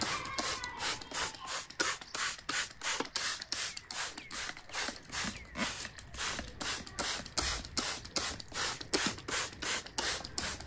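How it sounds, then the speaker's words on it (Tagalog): A handheld spray bottle misting water onto garden plant leaves, pumped in a steady rapid rhythm of short hissing bursts, close and fairly quiet, continuing without talk. "Tapos itong dahon kailangan spray na spray."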